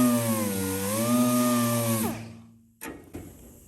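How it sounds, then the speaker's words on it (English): A power sander works on the bedside of a C10 show truck, a loud steady whine that shifts pitch slightly, then spins down and stops, followed by a couple of short clicks and knocks. "We're gonna sand this off."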